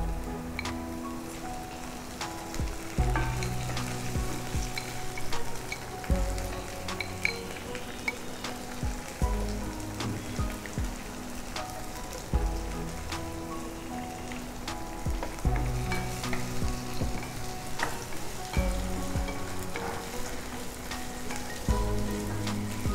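Soybean chunks fry in hot oil in a pan as a spoon stirs them, giving a constant crackling sizzle broken by recurring scraping strokes at regular intervals, close and fairly loud, without talk.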